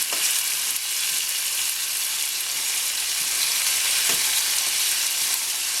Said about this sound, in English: So I'm going to fry that up a little bit